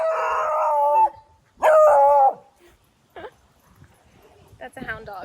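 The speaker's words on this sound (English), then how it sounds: "That's a hound dog." A hound dog howls twice in long, wavering, loud bursts close by, followed by a few quieter yips and short vocal sounds.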